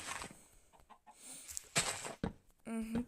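A chicken in the Minecraft video game clucks in several short, close bursts, loud and choppy, with brief gaps between calls.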